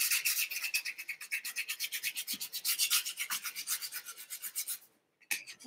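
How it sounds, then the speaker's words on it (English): Sandpaper rubbed briskly back and forth over a decoupage joint gives a steady rhythmic rasp of close strokes, about eight per second, pausing briefly near the end before resuming. "if you take a sandpaper and you go over, you'll make it even less visible."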